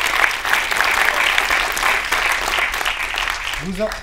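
Sustained applause from a cinema audience at a Claude François film screening in Geneva, a dense steady wash of clapping from a full room that lasts throughout, with a voice briefly heard near the end.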